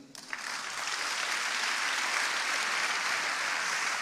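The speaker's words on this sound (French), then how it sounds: "Applaudis-la." A church congregation applauds for a woman: a swell of dense, sustained clapping rises within the first half second and continues steadily and loudly to the end.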